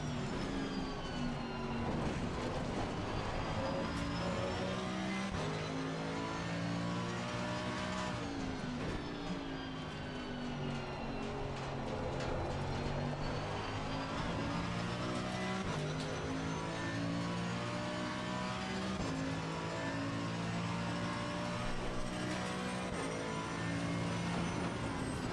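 Race car engines roar continuously at close range through a Brands Hatch hairpin in Assetto Corsa Competizione, a Ferrari GT car right behind, pitch dipping under braking and climbing again on the exit with no pauses.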